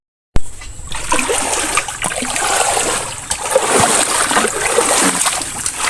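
Water flows steadily through a natural stream near rice fields, a continuous close-up rush and splash that holds at an even level throughout with no voices.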